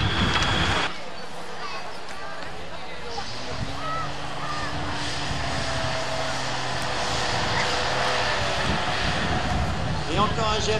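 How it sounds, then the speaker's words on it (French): GMC 4x4 heavy truck finishing a lap on an off-road ravine circuit at a 1988 truck show, heard as a continuous distant engine roar with gear whine, under crowd noise and an announcer talking over it. "Et encore un GMC qui termine son tour avec Jean-Claude qui pilote"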